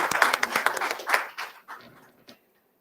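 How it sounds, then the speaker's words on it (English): Conference audience clapping for a joint award at an awards ceremony, a burst of distinct hand claps that thins out and stops within about two seconds. "a big round of applause for this."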